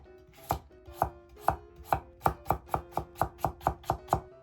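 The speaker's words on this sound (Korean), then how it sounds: "당근은 썬 후 채 썰어주세요." A knife chops carrots on a cutting board, about a dozen crisp strikes that start spaced out and quicken into an even rhythm, close and clear.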